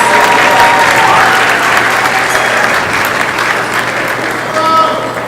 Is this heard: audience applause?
yes